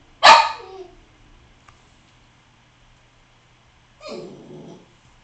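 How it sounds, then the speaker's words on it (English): A dog barks once sharply, then after a pause gives a whining, growly vocalization, heard in a quiet room with no talking. "So now you can hear my dog whining in the background."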